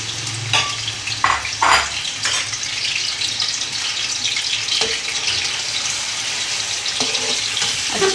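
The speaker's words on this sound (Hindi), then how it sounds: "चिकन को मैंने अच्छी तरह से ऑयल के अंदर मिक्स कर लिया है।" Chicken frying in about a cup of hot oil while being stirred, a steady sizzle with scraping and clinking stir noises in the first seconds, fairly close and without talk.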